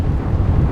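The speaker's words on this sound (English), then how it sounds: "A thunderstorm raged outside the small home," Thunder from a raging thunderstorm outside a small home, heard as a heavy, continuous low rumble that stays loud and steady throughout.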